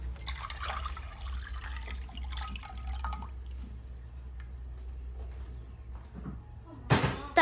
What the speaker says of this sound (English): First we will add in 2 bowls of cold water to the pot.